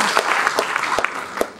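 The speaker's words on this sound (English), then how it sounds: "shall we give all a big applause to Detsa College?" Scattered clapping from an audience for Detsa College, a private college, with a few distinct sharp claps standing out over a thinner wash of applause at a speech event.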